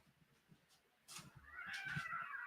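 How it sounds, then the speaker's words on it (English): Cats fighting outside a window, rising into a loud drawn-out yowling caterwaul after a quieter start, heard from a short distance. "I think a cat is getting beaten up."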